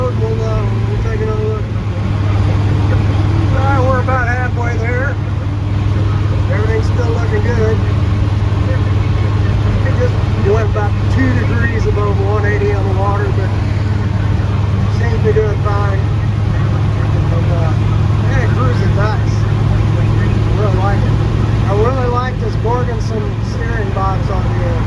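A Chevy cab-over conversion van drives along the road, its steady engine drone and road rumble continuous throughout, with a voice talking over it.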